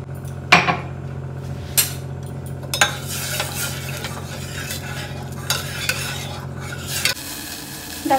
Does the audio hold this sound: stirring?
yes